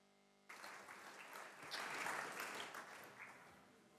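A conference audience at DINAcon 2023 breaks into applause to welcome two speakers on stage, steady clapping from a crowd that swells and then carries on, with no talking over it.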